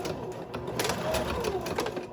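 A sewing machine stitches the edges of a boho tote bag in a short, fairly quiet run of rapid mechanical whirring pulses, heard close and on its own.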